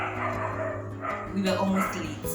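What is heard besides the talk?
neighbor's dog barking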